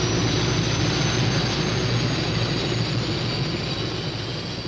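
Helicopters from the 1980 monster film Monstroid, a steady, loud broadband rotor and engine roar that holds constant throughout, fading only slightly near the end, with no talk over it.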